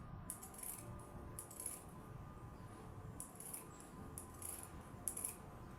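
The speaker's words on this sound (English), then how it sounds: "I'm also going to trim the edge here with my zigzag scissors." Repeated short snips of zigzag pinking scissors trimming a fabric edge, a series of quick crisp clicks spaced irregularly, close and fairly quiet.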